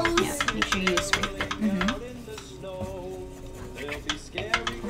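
Metal utensil scraping and stirring melted marshmallows around a pan, a run of sharp scrapes and clinks, with tonal music and voices in the background.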